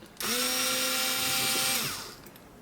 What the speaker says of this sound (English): the hard drive is just kept in place by those 4 screws, which I will take out as well.